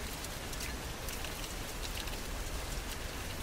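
Steady rain ambience from a Mac menu-bar sound app, an even wash of dense drops pattering on a surface, constant level and close, with no voices.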